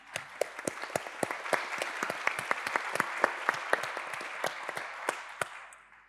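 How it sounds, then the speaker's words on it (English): Audience applause for panellists at a university International Women's Day event, a dense crowd clapping with a few sharper, nearer claps standing out, sustained for several seconds and tapering at the end. "we'll take that applause for all three of our panellists and their wonderful reflections"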